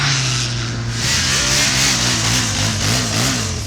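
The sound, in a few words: motorcycle accelerating in a quarter-mile acceleration test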